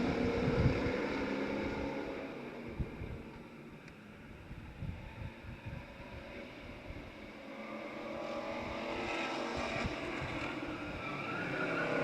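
Race cars accelerate away at the start of a 2002 RGS race, a continuous roar of several engines rising and falling with wind buffeting the microphone, building louder toward the end.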